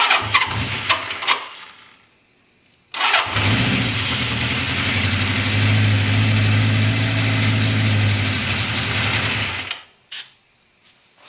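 A 1981 Honda CB650 motorcycle, not fully warmed up, cranks and fires, then runs at a loud steady idle for several seconds before shutting off.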